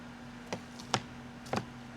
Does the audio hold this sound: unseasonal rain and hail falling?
no